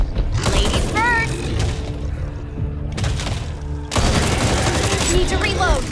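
Gunfire rattles in the zombie shooter video game Back 4 Blood, with rapid bursts, mechanical clanks and thuds, and a loud burst after a brief lull, mixed with game voices and effects.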